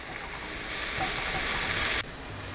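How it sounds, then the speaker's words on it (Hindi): Chopped onions frying in a pan with sea salt for palak bhaji, a steady dense sizzle close up with a brief shift in texture near the end, no talking. "तो जब तक ये प्याज भून रही है"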